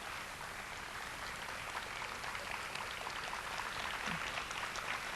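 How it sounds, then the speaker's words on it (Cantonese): An audience at a 1991 university campus concert applauds, a dense, even roar of clapping that holds steady throughout at moderate distance, with no talk over it. "我哋俾啲掌聲！"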